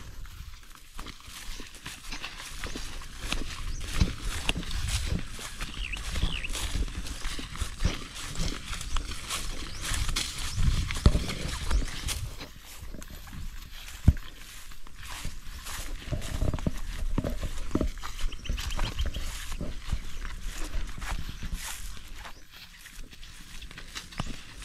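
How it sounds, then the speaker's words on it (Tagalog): A horse's hooves clopping on the ground as it is led and moved to a safer spot in a rural setting, soft irregular steps with shuffling and light rustling, fairly faint and without talk. "Kaya po yung kabayo, ililipat po natin, delikado po."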